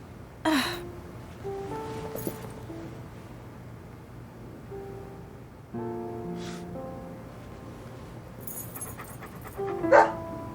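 A dog in the video game Deadly Premonition pants in soft, steady breaths, with a couple of sharper snorts and game sound effects over the top and no speech.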